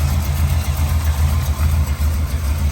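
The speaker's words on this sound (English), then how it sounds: "Great running motor." A 1972 Chevrolet C10 Cheyenne's 350 small-block V8 with double hump heads runs at a steady idle, a deep, even rumble heard close and alone.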